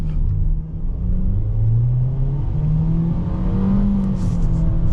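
A 2024 Nissan Kicks accelerating hard from a standstill toward 60 mph, its engine droning loud and close from inside the cabin, pitch climbing steadily with brief dips at gear changes and a constant road rumble beneath.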